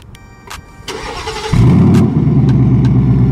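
A 2019 Ford Mustang GT V8 cranks and fires up loud and close, catching with a sharp roar that settles into a deep, steady rumble, with no talking.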